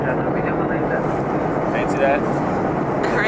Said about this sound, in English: Hear all that noise That's the airplane.